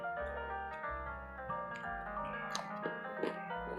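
Someone chews crunchy fried crablets close to the mic, with a short series of crisp bites and crunches over a few seconds, set against a musical background.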